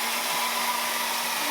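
A hair dryer blows hot air onto a PS3 with the yellow light of death, a loud, steady, close whoosh with a fixed motor whine that holds unchanged throughout.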